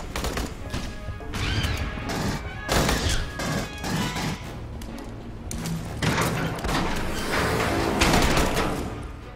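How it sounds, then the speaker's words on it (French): Bursts of gunfire with heavy thuds and crashing impacts from the video game Aliens: Colonial Marines, loud and repeated in clusters over several seconds. "j'entends les coups de feu de chez Ney"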